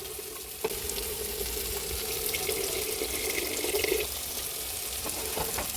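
Water poured from a tap into a pot of boiling rice for goat-meat khichuri, a steady close splashing hiss that swells slightly toward the end amid faint kitchen sizzle, with no voices.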